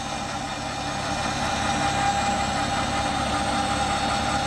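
Motorized roof-lowering system on a Palomino camper with an ROA Offroad Pause setup, a steady mechanical hum with a faint whine, running continuously and close by.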